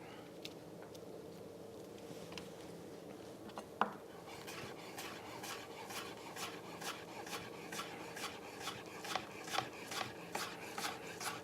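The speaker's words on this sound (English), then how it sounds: "and then the cut. So we get thin strips of leek." A knife slices leek into thin strips on a cutting board, starting with slow scraping strokes, then settling into a quick, even rhythm of light chops that grow slightly louder, close and without talk.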